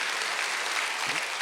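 Church congregation applauding at a Sunday service, a dense, even burst of many hands clapping together, loud and continuous through the short moment with no voices over it.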